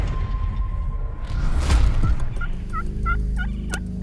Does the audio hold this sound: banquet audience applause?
no